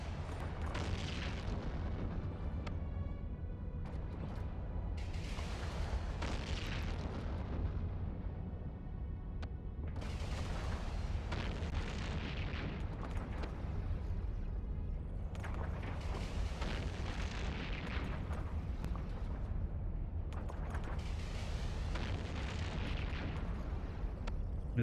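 Ships firing weapons in the EVE Online video game, a continuous rumbling bed with repeated booming volleys and blasts every few seconds, steady and fairly distant.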